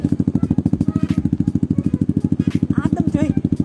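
A Yamaha Aerox scooter with a modified K Race Samlong exhaust idles up close, giving a steady, even engine pulse throughout, with people talking softly over it.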